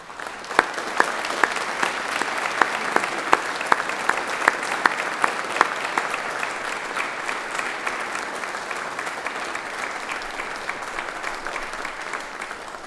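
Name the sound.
audience applause at a graduation ceremony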